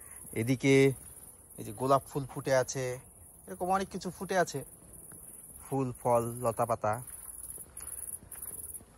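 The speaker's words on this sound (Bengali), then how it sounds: "ঝিঝি পোকা ডাকছে।" Crickets in a summer-house garden in Germany keep up a thin, steady high-pitched trill through a late afternoon, faint beneath a person talking in bursts nearby.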